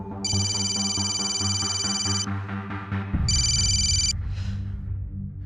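A phone rings with an incoming call, a bright repeating electronic tone heard in two bursts over a layered musical ringtone melody, close and clear with no talking.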